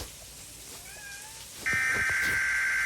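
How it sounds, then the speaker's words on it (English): A pet cat meows indoors in a brief, faint, rising call heard over a tornado game's soft steady rain and wind, followed by a louder, sustained tonal sound from the game. "That's my cat, guys."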